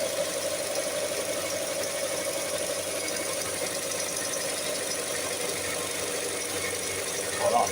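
A Mazda MX5 engine idling steadily on ramps with a newly fitted alternator and its belt spinning, a constant close hum and whine with a faint squeal.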